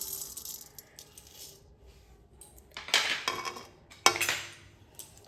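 Whole cumin and fennel seeds spooned into a dry pan, two bursts of light dry rattling and pattering, close and fairly quiet, with faint clinks between.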